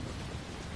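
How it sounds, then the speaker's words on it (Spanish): Steady rain pours down in a dense, even hiss with a low rumble beneath, constant and close with no pauses or voices. "con el sonido de la lluvia"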